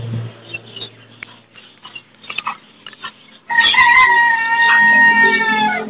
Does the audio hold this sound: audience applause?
no